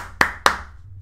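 Two sharp hand claps in quick succession, close by, followed by near silence.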